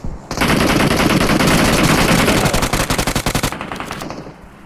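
A machine gun in PUBG Mobile fires a loud, rapid automatic stream for about four seconds, close and relentless, then tapers off.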